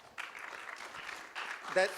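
Audience clapping at a food industry conference, a thin scattered patter of applause from a modest crowd, fairly faint and swelling slightly toward the end, with a voice cutting in briefly.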